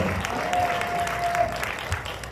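A church congregation gives a big round of applause, a dense crowd clapping that stays steady for the short stretch, with a faint sustained tone running underneath and no clear voices.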